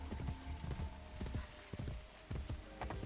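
Horse hooves clip-clopping in Assassin's Creed Brotherhood, a steady run of close hoofbeats with a faint game background and no speech.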